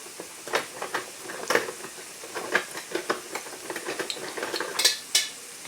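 Plantains frying in oil while being pushed around the pan, soft sizzle broken by repeated scraping and stirring taps at an uneven pace, fairly quiet and close with no talk.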